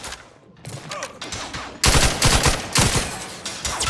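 Sustained automatic gunfire in the video game The Outer Worlds 2, quiet at first, then a loud dense fusillade of rapid shots bursting in and continuing without letup.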